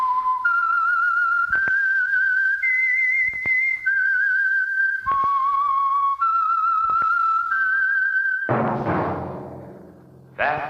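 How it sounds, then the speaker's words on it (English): A signature whistled melody for the old-time radio mystery show The Whistler, sponsored by Signal Oil, with a clear sustained tune of held notes broken by short pauses, ending in a loud orchestral swell. "That whistle is your signal for the Signal Oil Program, The Whistler."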